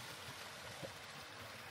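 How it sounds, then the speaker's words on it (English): Steady broadband rush of a waterfall on the River Etive in the Scottish Highlands, heard from a parked camper van as a constant, fairly faint wash of falling water with no talk. "the sound of the water falling"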